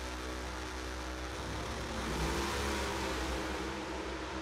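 A Top Alcohol Funny Car drag racing engine revs at a drag strip during qualifying, a loud, steady high-RPM roar with a droning harmonic tone that holds throughout.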